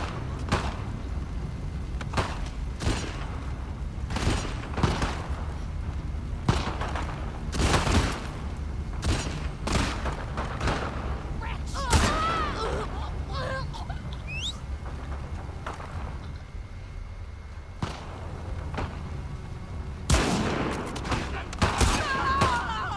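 Repeated sharp gunshots in a video game combat scene in The Last of Us Part II, single cracks spaced irregularly throughout, fairly close, with faint game ambience between them.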